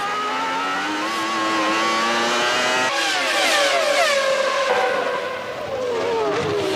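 A 1996 Formula 1 Ferrari race car passing at full speed, its high-pitched engine screaming loud and close, with rising and falling pitch as it sweeps by.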